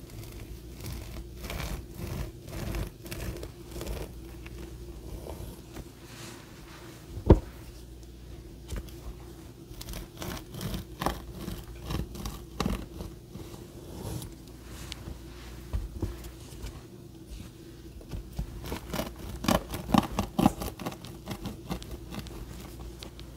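A knife saws through the top of a homemade bread loaf being hollowed into a bowl for spinach dip. Quiet, crackly scraping and tearing strokes continue throughout, with a sharp knock near the middle and busier crunching toward the end.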